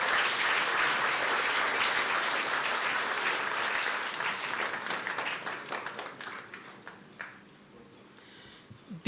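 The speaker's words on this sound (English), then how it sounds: "A big round of applause, please." Audience at a memorial celebration for Pheroze Nowrojee breaking into loud, dense applause from a large crowd, holding steady before thinning into scattered individual claps toward the end.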